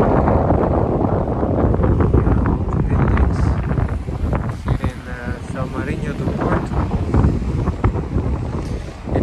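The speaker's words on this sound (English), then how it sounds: "it's not so warm and it's very windy" Strong wind buffets the microphone on a beachfront at São Martinho do Porto in Portugal, a loud continuous roar with rumbling gusts and faint surf beneath, with voices briefly audible under it.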